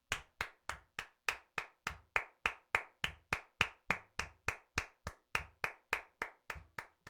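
A single pair of hands claps right in front of the microphone in a steady, even beat of about twenty sharp, close claps, each crisp and distinct with silence between.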